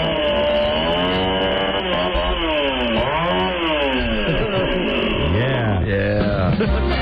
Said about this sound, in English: let's hear that mighty chainsaw again